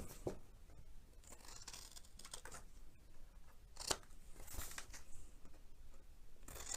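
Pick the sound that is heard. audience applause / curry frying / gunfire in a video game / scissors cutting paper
scissors cutting paper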